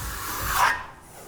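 A single raspy scraping stroke of a drywall knife flattening joint compound on a wall, swelling and then fading out.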